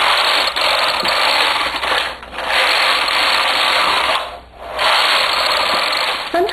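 A knitting machine knitting full needle rib: a steady, loud mechanical whirring and clattering as the carriage sweeps across, with two brief dips where it reverses direction.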